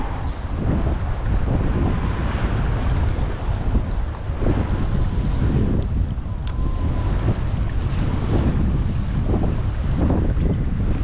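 Strong gusty wind buffets the microphone while fishing at sea during an Australian storm and rain, with a constant loud roar, ocean waves washing underneath and no talk.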